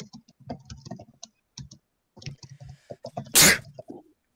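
One sharp, loud sneeze bursts out during casual talk among commentators at an online Buddyfight card game tournament, with light keyboard clicks nearby.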